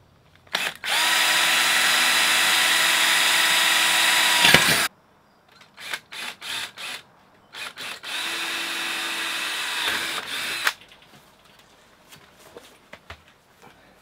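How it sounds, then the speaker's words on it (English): A power drill whirs loudly drilling holes in metal in two bursts, several seconds each, with short clatters and handling noises in between, close up. "So I need to drill three holes."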